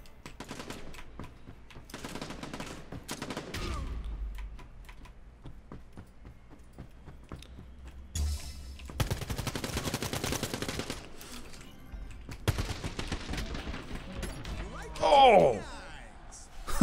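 Rapid bursts of automatic gunfire crackle back and forth in the online shooter Quantum League, coming in separated volleys with quiet gaps between them, while a player talks in the foreground.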